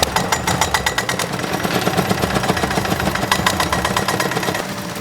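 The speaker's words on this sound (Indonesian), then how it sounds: "selanjutnya kita lakukan pembijian dengan cara manual atau menggunakan mesin thresher" A motorized thresher machine separating soybean seeds from dried plants runs loudly with a rapid rattling, knocking drive over a steady engine drone, continuous for several seconds without voices.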